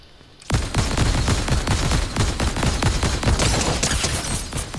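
Rapid gunfire in the video game Fortnite, a sustained burst of many sharp shots in quick succession, loud and close, running continuously for several seconds after a quiet start.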